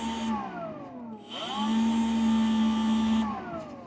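A handheld Makita or Ryobi blower whines at close range, its pitch dipping briefly as the throttle eases before climbing back to a steady high-pitched hum, then tapering off near the end.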